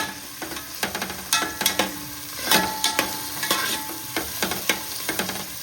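Green chillies and onions fry for green biryani, a steady sizzle punctuated by frequent sharp scraping stirs of the spoon against the pan.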